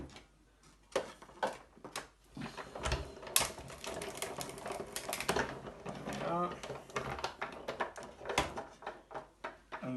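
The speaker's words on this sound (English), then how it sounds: "I'm just going to use it on its own at first to cut the stencil film" A Sizzix circle framelit die is run through a die-cutting machine to cut stencil film, giving a steady series of close mechanical ticks and clicks with talk over parts of it.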